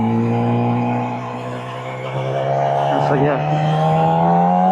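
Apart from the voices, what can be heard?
Yamaha R6 motorcycle riding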